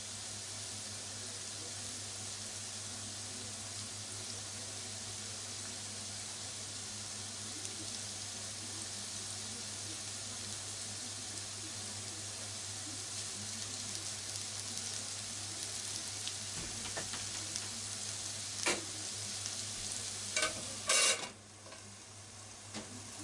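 Carrots frying in a pan for ninjin shirishiri, a steady soft sizzle with occasional stirring scrapes and clatters growing louder near the end.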